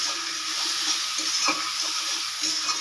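A spice paste of garlic, green chilli, turmeric, chilli powder, cumin and salt is sautéed for a fish curry, giving a close, steady hiss and sizzle with soft scraping stirs.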